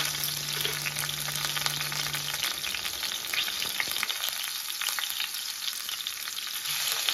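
Chopped green chillies and ginger frying in a pan: a continuous loud sizzle with occasional stirring scrapes, close up and with no talking.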